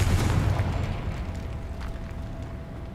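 A Confringo fire spell explodes in Hogwarts Legacy, a loud burst at the start that trails off into a long rumbling decay with crackling debris and no voices.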